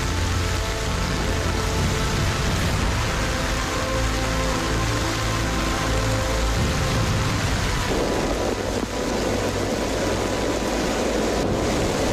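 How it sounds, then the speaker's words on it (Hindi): Heavy monsoon rain pours down on the hills of Ranikhet in Uttarakhand, a dense, loud and continuous roar of rainfall drumming on surfaces with a rushing, wave-like wash and no voices. "पहली बारिश ने किस तरह से पहाड़ों पर तांडव मचाना शुरू कर दिया"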